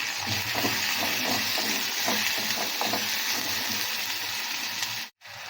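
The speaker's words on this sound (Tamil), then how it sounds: "இது நல்லா வதக்கிக்கலாம்" Vegetables sizzle steadily in a hot pan, with soft stirring scrapes over the constant frying hiss and a brief drop near the end.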